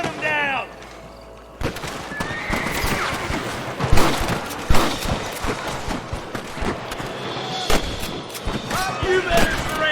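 Rapid gunfire from a Red Dead Redemption 2 shootout with rustler guards: repeated sharp shots and bursts, loud and close, over game music and other effects, with voices shouting in the game.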